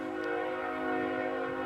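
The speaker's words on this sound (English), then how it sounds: "Just to record with the train" A train is passing close by, its steady, loud, tonal rumble and horn-like drone continuing unbroken throughout with no talking.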